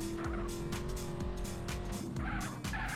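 A car brakes hard and swings into a left turn, its tires squealing in long wavering screeches over a steady engine hum, close and prominent with no talking.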